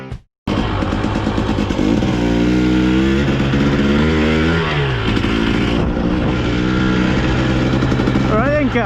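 Husqvarna TE300i two-stroke enduro motorcycle engine, loud and close, revving and accelerating with rising and falling pitch after a brief silent start, constant throughout.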